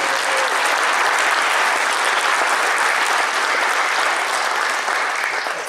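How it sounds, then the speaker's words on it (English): An audience at a pledge event applauds board members with dense, steady clapping from a crowd that holds evenly for several seconds and tapers slightly at the end. "we can give them a nice round of applause for their service to the board."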